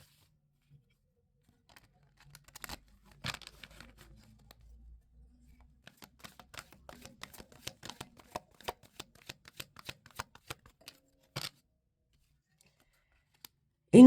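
A deck of guardian angel tarot cards is shuffled by hand, soft riffling and a long run of crisp individual card flicks and snaps, close and quiet with no talk.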